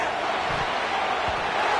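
Home stadium crowd roaring in a college football video game, a dense, loud, continuous wash of cheering noise with no break.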